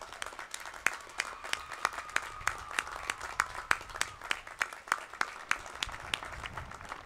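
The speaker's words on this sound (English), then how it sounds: "Please join me in applauding the faculty and thanking them for their contributions to the educational accomplishments of today's class of graduates" Jacksonville State University graduation audience applauding the faculty: faint, sparse clapping with distinct individual claps in a loose rhythm, distant and scattered across a large hall.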